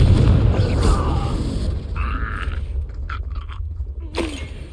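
Confringo spell explosion in the video game Hogwarts Legacy, a heavy booming blast with crunching, scraping debris that decays into lighter rattles and a final sharp crack.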